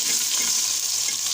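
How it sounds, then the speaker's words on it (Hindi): Onions frying in oil for a white chana pulao, a dense, even sizzling hiss close up, brief and unbroken with no voices. "और इसको अच्छी तरह से फ्राई कर लेंगे। ब्राउन होने तक इसको फ्राई करेंगे।"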